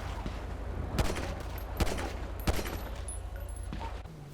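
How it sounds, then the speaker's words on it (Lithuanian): Gunfire in a 1990s-themed roleplay video game, a few sharp shots cracking out at irregular intervals over a steady low rumble, fairly distant and faint, with no talk. "Kas čia šaudo?"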